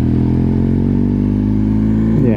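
Motorcycle engine droning steadily at close range, a 1250 riding up mountain roads in the Italian Alps, loud and continuous with a slight change in tone near the end.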